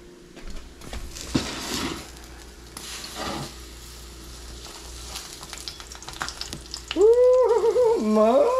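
Salmon and northern bean patties with garlic, onion and oat flour sizzle steadily in a pan, with a few scraping knocks near the start and a louder squeaky scrape toward the end.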